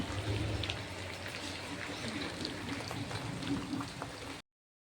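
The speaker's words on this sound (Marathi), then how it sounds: "तुम्हाला दाखवतो बघा कसं पाऊस येतोय" Rain falls outside a house as a continuous, soft, even patter of drops, steady for several seconds before cutting off abruptly.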